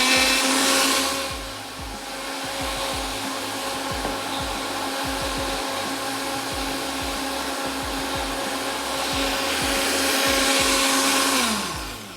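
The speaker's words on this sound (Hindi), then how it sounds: "थोड़ा सा और ब्लेंड करते हैं" A kitchen blender whirs steadily as it blends a sweet mixture containing sugar for a dessert. The loud, close motor drone runs for about twelve seconds, then spins down at the end. No one speaks.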